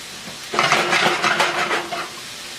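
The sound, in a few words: stirring chicken cacciatore in a pot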